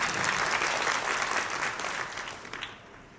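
An audience claps together at a religious Patotsav celebration honouring Lalitkishorsharanji Maharaj, producing dense, sustained applause that gradually thins and fades toward the end.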